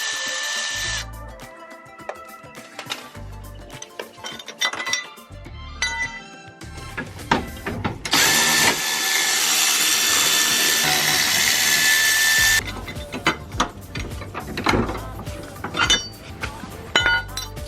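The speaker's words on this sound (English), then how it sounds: "Now using a 12mm on a ratchet," A ratchet with a 12mm socket works loose a bracket on a Subaru Crosstrek, giving scattered metallic clicks and clinks with a longer, steadier burst of ratcheting partway through. It is close and fairly loud, with no talking.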